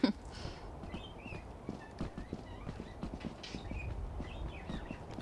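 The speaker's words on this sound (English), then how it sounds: "The stomps." Monster stomping footsteps in the video game Lethal Company, a series of thudding clip-clop steps in a steady walking rhythm, moderately quiet, with some high chirping tones in the background.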